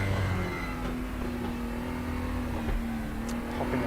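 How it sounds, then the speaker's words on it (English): A race car in the RaceRoom racing game holds a loud, steady engine drone, with popping and banging on the overrun and a sharp crackle near the end. "Popping and banging on the overrun."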